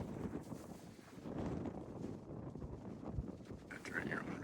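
Wind blows across an open outdoor area on Maui, Hawaii, a steady rushing and buffeting at moderate level with gusty swells that hold through the whole stretch.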